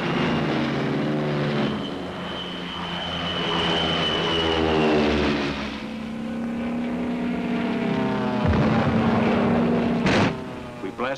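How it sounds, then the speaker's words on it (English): Thunderbolt fighter planes take off from a WWII airfield in the Marianas, 1944, with loud roaring piston engines and propellers that rise and shift in pitch as aircraft pass close by, one after another. "Thunderbolts take off from our new field."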